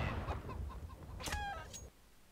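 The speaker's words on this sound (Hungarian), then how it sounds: "Szegény csirke." Chicken clucks in a tactical shooter match, a few sharp fowl calls rising over a low background rumble, fairly close, with no talk, before fading to quieter room tone near the end.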